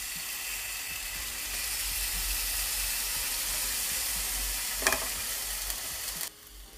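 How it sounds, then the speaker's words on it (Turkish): Thinly sliced meat for İskender döner fries in a pan with a steady, close sizzle and occasional stirring, a brief clatter near the end before the sizzle cuts off. "Hemen kestiklerimi tavaya alalım ve kızarsın."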